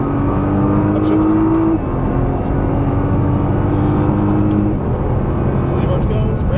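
A Nissan GT-R engine accelerates on a racing track with a loud, steady drone that climbs in pitch, then drops at a shift and holds, close and continuous, while a voice talks over it.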